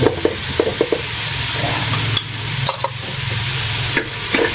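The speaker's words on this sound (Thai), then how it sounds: "คั่วส่วนผสมนะคะ ใส่ตะไคร้ คั่วให้หอมเลยค่ะ" Roughly chopped shallots stir-fried in a pot over a gas flame, with a steady hiss and sizzle broken by repeated scraping clatters of a utensil against the pot.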